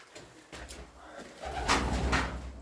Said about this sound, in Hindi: अभी कबूतर ने टक्कर मार दी मेरी,